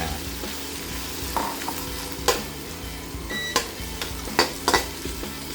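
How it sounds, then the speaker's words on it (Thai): Pounded garlic and shrimp heads stir-fried in a hot pan, giving a constant sizzle punctuated by sharp clanks and scrapes of a spatula against the pan, close and without any voices. "กระเทียมโขลกก่อนเลยนะครับอันดับแรก ผัดให้หอมนะ แล้วเราก็เอาหัวกุ้งของเราครับไปผัดก่อนอ่า"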